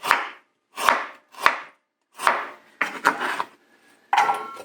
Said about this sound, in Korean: 이제 일단 생강을 먼저 제가 이제 편으로 쓸 거예요